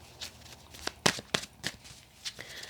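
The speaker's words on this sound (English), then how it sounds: "that was a really chaotic shuffle, so just bear with me" Tarot cards being shuffled chaotically by hand, quiet close riffles and sharp papery slaps in an irregular rhythm.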